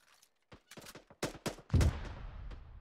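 Gunfire in the tactical military shooter ArmA 3: a string of sharp, separate shots with rolling echo, then a heavier close burst that trails off, with no talk over it.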